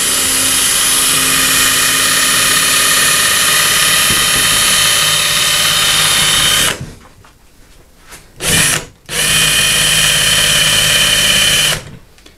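A power drill runs loud and continuous with a bit that fails to cut, then stops, briefly spins up again and cuts out, before restarting at the end.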